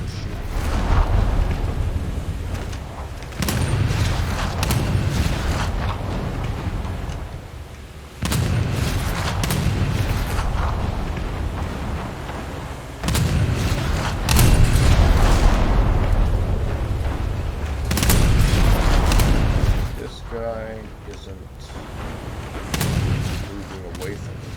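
Heavy naval guns of the IJN Kako, a Japanese heavy cruiser in the War Thunder video game, fire in repeated loud booming salvos with rumbling tails, spaced every few seconds, while someone talks intermittently.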